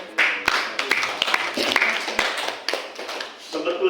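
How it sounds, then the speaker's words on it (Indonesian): Scattered audience handclaps at an Indonesian motivational seminar, irregular sharp claps of varying loudness over a few seconds, mixed with crowd murmur and some talk. "jadi nggak perlu tepuk tangan"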